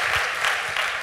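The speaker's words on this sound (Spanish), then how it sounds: "un aplauso al pueblo de Canarias" A crowd at a political meeting in the Canary Islands claps steadily. The applause is dense and continuous through the short moment.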